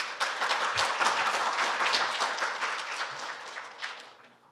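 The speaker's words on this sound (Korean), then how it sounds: "따뜻한 박수로 맞이해 주시기 바랍니다" Audience at the 2025 KUAI forum claps warmly to welcome a speaker to the stage, a steady dense round of applause that swells and then gradually fades out over several seconds.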